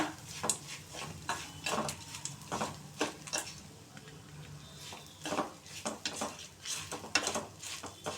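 Ingredients dry-roasted with salt in a pan, with quiet irregular scraping and clinking of a spatula against metal and a faint crackle, close and soft.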